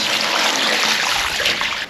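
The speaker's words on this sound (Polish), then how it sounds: "No kapie mi tam." Water from a leaking hot tub connection in a garden, a loud continuous splashing trickle with no break, with no talk over it.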